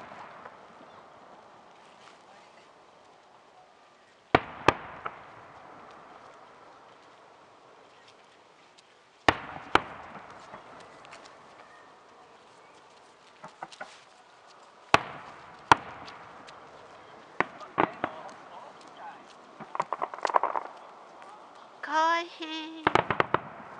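Cherry blossom festival fireworks at Tatsunokuchi waterside park in Hitachiomiya, Ibaraki, sharp booming bursts spaced several seconds apart, then a crackling, sparkling flurry near the end, with quiet crowd murmur between blasts.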